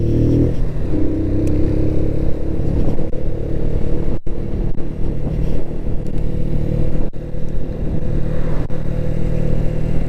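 A Klight motorcycle, still original from new, idles and runs with a steady low rumble and some mechanical clatter throughout, close and fairly loud, with no talk over it.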